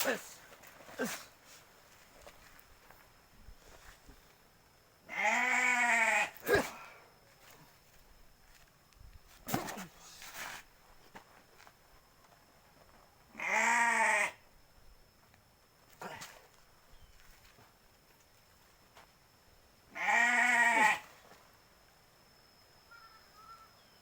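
Three loud, wavering goat bleats ring out several seconds apart, with faint rustling and shuffling in between.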